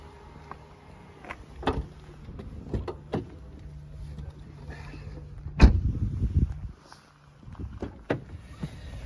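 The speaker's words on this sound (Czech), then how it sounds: "Hele, myslím si, že to stačí, zavíráme kufr" Boot of a Škoda Elroq 60 electric car swinging shut, a brief whirring movement ending in one solid close thump, heard up close with no one talking.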